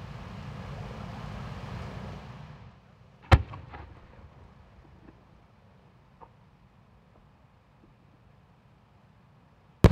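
Firework shells at a spring fireworks festival in Omagari, a rising-tail triple-ring star and aurora design: a rumbling roar fades out, then a sharp loud burst at mid-clip with crackling echoes, and another sharp burst at the very end.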